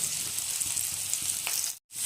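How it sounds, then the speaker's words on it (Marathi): Steady crackling sizzle of onions frying in hot oil, close and continuous, briefly cutting out near the end. "तेल गरम झालं की त्यामध्ये कांदा टाकून घ्यायचा।"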